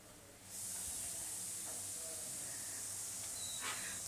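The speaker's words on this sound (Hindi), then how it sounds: "गोश्त डाल के चलाते हुए भून लेंगे।" Beef gosht stir-fried in a pan gives off a steady, loud sizzle that starts suddenly and holds without a break, with a few faint clinks from stirring underneath.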